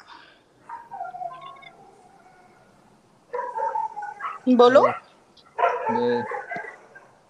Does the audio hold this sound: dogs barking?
yes